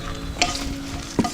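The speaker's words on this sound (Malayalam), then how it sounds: "നമുക്ക് ഈ വറ്റൽമുളകും കൂടി ഇതുപോലെ ഒന്ന് ഫ്രൈ ആക്കി എടുക്കാം" Dried red chillies fry and get stirred in a pan for a tomato chutney, with a low steady sizzle and two sharp scraping stir sounds, close and without speech.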